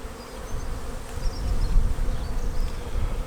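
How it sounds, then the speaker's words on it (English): A dense, continuous buzz of many honeybees flying around an open hive as a nuc is moved into a full-size hive, close and steady, with low droning wingbeats throughout. "there's lots of bees out flying today"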